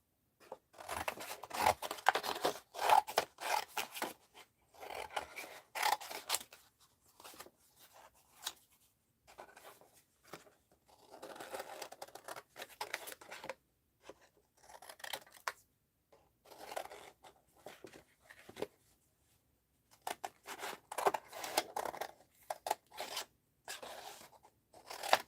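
Scissors cut out a paper snowman, with repeated short snipping and crisp paper rustling in irregular close bursts separated by brief quiet pauses.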